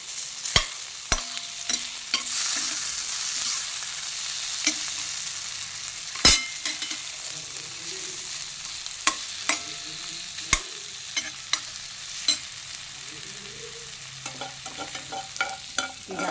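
Tomato masala for fish curry sizzles softly in a pan, a low steady frying hiss broken by sharp clicks and scrapes of a spoon stirring, with no voices.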